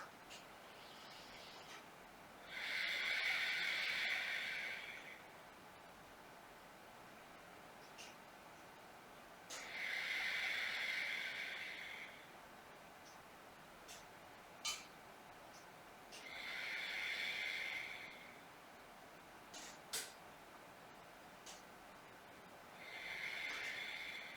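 Slow yoga breathing held in pyramid pose: four long, soft, airy breaths spaced several seconds apart, quiet and close, with faint clicks between them and no talking.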